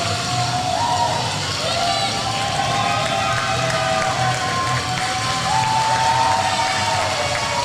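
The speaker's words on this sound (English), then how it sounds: "this crowd is still just going absolutely nuts" A wrestling crowd roars and cheers wildly after a match, a dense, sustained wall of shouting and whistles filling the space with a commentator's voice faintly over it.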